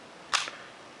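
Single crisp mechanical snap of a Nikon F2 35mm film camera as its shutter and mirror fire, one short sharp click with a brief trailing clack, close and quiet against near silence.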